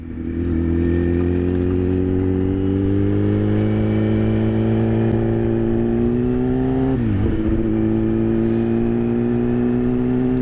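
Yamaha FZ1N motorcycle engine pulling steadily while riding, a loud continuous drone that rises gently in pitch, briefly drops during a manual clutch gear change around the middle, then carries on. No one speaks.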